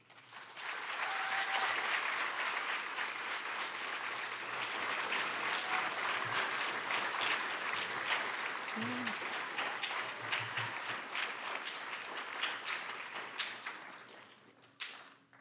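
A high school auditorium crowd applauds new National Honor Society members at an induction ceremony, sustained, full clapping from many people that holds steady for about fifteen seconds before tapering off abruptly, with a few scattered voices beneath.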